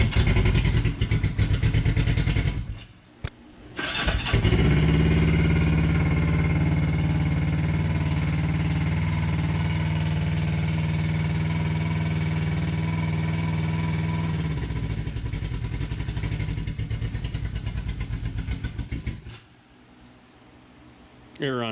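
A motorcycle engine fires up after a brief cranking gap, then settles into a steady, loud, close idle for several seconds before shutting off and going quiet.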